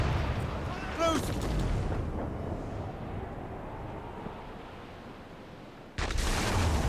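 Naval cannons boom during a ship battle in Assassin's Creed Rogue, with heavy blasts near the start and again at the end over constant sea and wind noise. Game voices shout commands between the shots.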